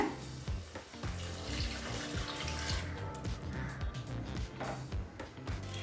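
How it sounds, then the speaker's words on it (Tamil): Water streams and splashes steadily into a metal pressure cooker for several seconds, with a gurgling, rushing texture and no speech. "இப்போ 2 கப் தண்ணி சேர்த்துக்கலாங்க."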